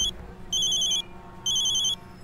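A phone rings electronically in two short bursts of trilling tones with a brief gap between, fairly loud, against a faint low background hum, in a Hindi TV drama.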